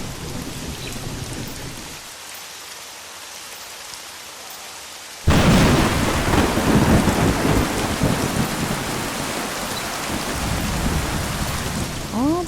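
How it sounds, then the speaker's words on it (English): Thunderstorm with rain in the Whirlight adventure game, a steady hiss of rain that quiets briefly before a loud crack of thunder leads into heavier, roaring downpour. "The storm filled it back up again."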